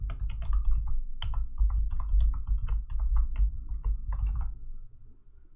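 Typing an application name on a computer keyboard while setting up a Visual Studio console application: steady, close, rapid key clicks for about five seconds, then slowing to a stop.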